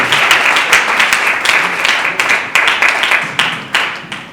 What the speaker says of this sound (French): Nous l'accueillons avec beaucoup de acclamations.